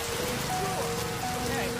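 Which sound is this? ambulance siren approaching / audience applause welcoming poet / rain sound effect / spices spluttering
rain sound effect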